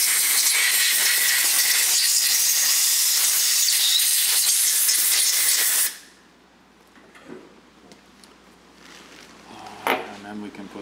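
Compressed air blasting through a steering rack part in a workshop: a loud, steady hissing rush lasting several seconds, then cut off, leaving quiet room noise and faint clatter.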